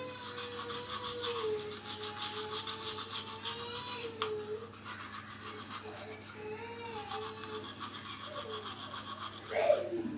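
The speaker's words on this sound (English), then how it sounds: "You're going to scrub the top of your tooth, the part that crushes the food." A toothbrush scrubs the chewing surfaces of teeth with a steady, close rasping rub that runs continuously without a break.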